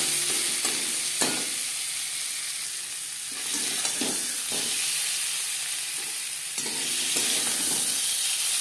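Boiled potatoes fry in hot oil in a kadai for an aloo mutton curry, a steady close sizzle broken by repeated scraping stirs of a spatula, with no talking.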